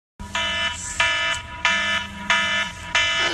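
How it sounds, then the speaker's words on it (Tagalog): An alarm clock rings in five loud, evenly spaced electronic beeping bursts, close and alone with no talk. "yung alarm mo."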